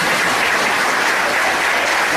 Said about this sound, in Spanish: madrecitas, denles un aplauso bien dado